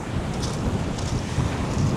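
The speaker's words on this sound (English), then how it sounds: "although it is really windy. In fact, it's really strong wind." Strong blustery wind at a British seaside town's seafront buffets the microphone in a continuous loud rushing roar with gusty swells, no voices.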